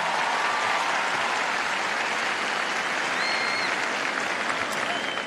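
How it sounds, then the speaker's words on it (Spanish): An audience at a comedy show at the Viña del Mar festival in Chile bursts into sustained applause, a thick continuous wash of clapping heard from within the crowd with no gaps. "quiero que este primer aplauso esta noche sea para ustedes con toda mi gratitud"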